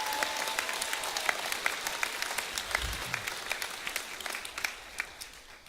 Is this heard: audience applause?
yes